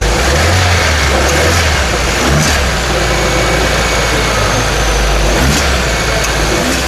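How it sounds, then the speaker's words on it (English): A 2026 Maruti Suzuki Victoris pulls hard in third gear, its engine giving a loud, steady drone that holds evenly throughout with no talk over it. "In third gear, the mid-range smoothly pulls all the way to 120 km per hour without strain"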